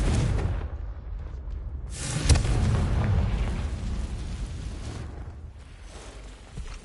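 Fiery spell blasts from Confringo in the Hogwarts Legacy video game, a loud booming burst followed by a rolling, crackling roar that slowly fades, with another muffled burst near the end.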